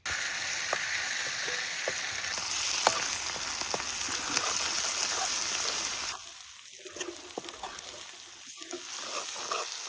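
Masala spice paste for a traditional val (field bean) birda dish sizzles steadily in hot oil, a dense continuous frying hiss with small pops, dipping briefly quieter partway through as the paste settles.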